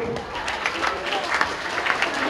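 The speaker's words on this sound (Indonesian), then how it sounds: "Tepuk tangan dulu buat Halid." Clapping from a class of people, a steady patter of hands that carries on for a couple of seconds at moderate volume.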